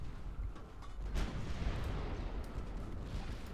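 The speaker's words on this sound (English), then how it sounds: "I'm going to try just a little bit some HE fire" Rumbling high-explosive shell fire from a British battlecruiser, HMS Renown, in the naval game Ultimate Admiral: Dreadnoughts. A dense, booming low roar with a sharper burst near the start holds steady throughout, and no one speaks.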